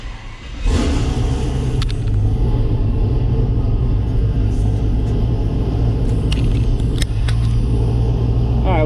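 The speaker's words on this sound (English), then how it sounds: "So we'll start the truck." A 2016 Chevrolet Silverado pickup cranks and fires at about the first second, then settles into a loud, steady, rumbling idle close by for the rest of the stretch.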